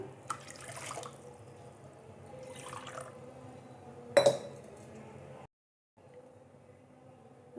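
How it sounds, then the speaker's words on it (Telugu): Water for Korean ramen pours from a glass in short splashing bursts, with one sharp clink of glass; the sounds are soft and near against a quiet background. "ఒక ప్యాకెట్కి 4 గ్లాసులు నీళ్ళు పోయాలండి"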